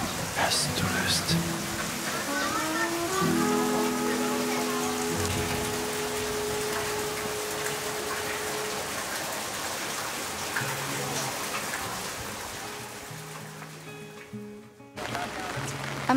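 Heavy rain pours steadily at a Bali resort by a pool, a dense close patter on surfaces throughout, with voices talking underneath and a brief break near the end.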